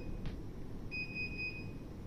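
A Daikin air conditioner indoor unit beeps during an error code check: a short faint chirp, then one longer steady high-pitched electronic tone lasting almost a second, quiet over a low background hum.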